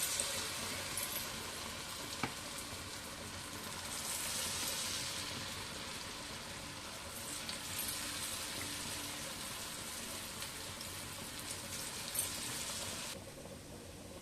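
Wheat flour bondas, tea-shop style, deep-frying in oil kept on a low flame, a steady, soft hiss and fizz of bubbling oil that continues evenly throughout, with no talking.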